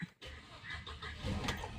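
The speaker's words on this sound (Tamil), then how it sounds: "நம்ம இப்போ வண்டியை இப்போ ஸ்டார்ட் பண்ணுறோம்" A Mercedes-Benz E220 CGI with a recently repaired intake manifold starting up: a brief starter crank, then the engine catches into a steady, moderately loud idle that builds slightly toward the end, with no talk.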